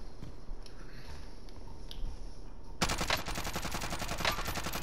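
Rapid gunfire in a multiplayer shooter set in a salt mine bursts in partway through, a dense, fast rattle of close, loud shots continuing to the end over faint background noise.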